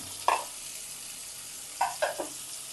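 Tomato, grated ginger, green chili and raisins hitting a hot pan of browned cumin, giving a quick sizzle and stir, then a couple more scrapes over a quiet background hiss.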